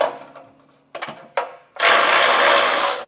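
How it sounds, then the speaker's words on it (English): A ratchet with a 10 millimeter socket tightens hitch bolts on a 2024 Toyota Camry, giving short mechanical clicking bursts up close, followed by a loud, sustained rapid ratcheting run. "And then we're going to tighten these down with that 10 millimeter."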